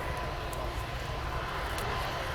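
C-17 military transport airplane engines at an air show, a steady broadband jet roar held at moderate level throughout with no distinct changes.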